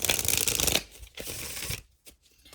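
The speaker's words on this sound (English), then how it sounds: "One more good shuffle." A deck of oracle cards is riffled and shuffled in brisk papery bursts, close and fairly quiet, with short pauses between passes and no voices.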